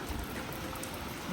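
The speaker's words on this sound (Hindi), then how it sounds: "बारिश तो हो गई है बहुत ज़्यादा तेज़" Heavy rain pouring down steadily, a dense close wash of drops drumming on surfaces with no pauses, alone and fairly loud throughout the short stretch.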